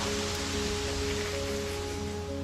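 Steady rain falls through the forest at Bukit Bangkirai in Kalimantan, a dense, even hiss that holds at a constant level from start to finish with no talking.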